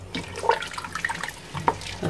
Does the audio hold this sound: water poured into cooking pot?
yes